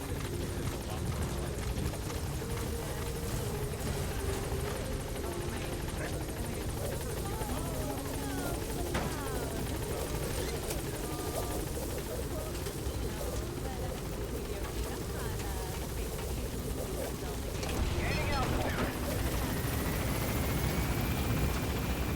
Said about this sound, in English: helicopter has arrived.